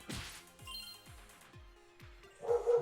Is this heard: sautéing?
no